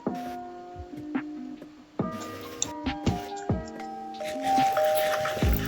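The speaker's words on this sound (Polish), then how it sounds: "Kto tam dzwoni do naszego domu?" Chiming tones ring out inside a house in a video game, several bright doorbell-like dings at irregular intervals over quiet game ambience.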